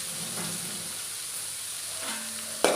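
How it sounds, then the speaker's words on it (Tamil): Spinach greens frying in a pan with a little salt water added, a steady soft sizzle running throughout, with a sharp scrape of stirring near the end. "இப்போ நல்லா கிண்டி கொடுத்துக்கலாம்."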